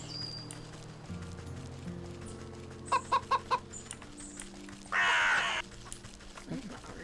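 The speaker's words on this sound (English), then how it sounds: "there's turkeys up here, aren't there?" Turkeys in the video game Wytchwood give a quick series of four short gobbling calls, followed by a harsh, loud squawk, set against soft game ambience and background music.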